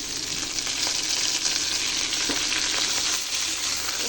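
Chopped ash gourd greens hit browned garlic in hot oil and are stirred, a loud continuous sizzle with faint scraping running steadily throughout, no voices.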